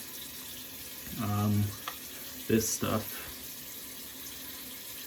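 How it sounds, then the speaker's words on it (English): Warm water runs from a bathroom sink tap in two short bursts, a close splashing flow, with someone talking quietly around it. "I think that's enough warm water."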